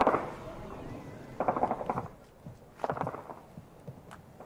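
Gunfire in Afghanistan near Taliban fighters comes as a few scattered distant cracks and short bursts over rough outdoor background noise, moderately faint.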